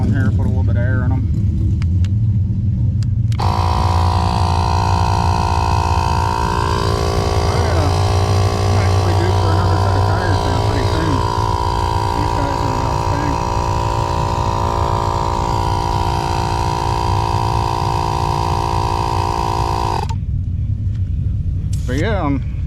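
An air compressor switches on beside a truck to top up its tires, a loud, steady mechanical drone with a humming tone that runs for about sixteen seconds before cutting off, with rumbling engine noise around it.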